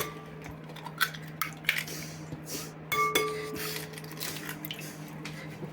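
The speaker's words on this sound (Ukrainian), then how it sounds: "Беремо тару, в якій ми будемо робити наше тісто. Вбиваємо сюди яєчки." Eggs are cracked into a mixing bowl for oatmeal cookie dough, with a few sharp clinks and taps of shell on the bowl and faint kitchen clatter in a quiet room.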